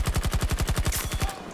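Automated fixed turret in Battlefield 2042 firing a rapid, evenly spaced burst of about a dozen loud shots, close and alone before cutting off.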